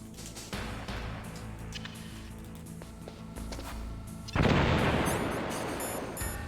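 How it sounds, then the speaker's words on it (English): A loud explosion in the Metal Gear Solid: Integral video game bursts in close partway through, leaving a long rumbling roar that slowly fades over steady game background noise. "if you were that close to the explosion, you would be exploded"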